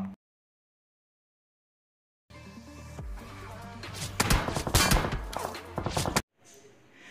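Gunfire in PUBG hits a BRDM armored vehicle: after near silence, a dense cluster of sharp shots and metallic impacts bursts out for a couple of seconds, then cuts off abruptly.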